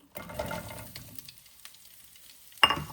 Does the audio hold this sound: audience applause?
no